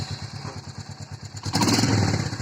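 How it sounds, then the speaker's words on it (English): A Royal Enfield Meteor 350 motorcycle cranks with a rhythmic starter chatter, then catches and settles into a steady, close engine note. "Right now, let me start the bike."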